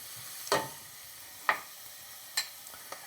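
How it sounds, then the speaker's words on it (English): Garlic fries in hot oil as the start of a soffritto of onions, celery and carrots. A faint, steady sizzle runs underneath, broken by a few sharp, spaced pops or clinks, with no talking. "As the garlic starts to pick up some color and starts to jump around in the hot oil"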